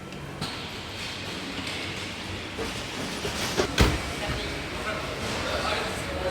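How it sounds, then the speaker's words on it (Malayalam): A bullet train rumbles along with a continuous rolling rail noise, broken by a sharp clank partway through. "ആൻഡ് ഷിൻകാൻസൻ ട്രെയിനിലാണ് പോണത്"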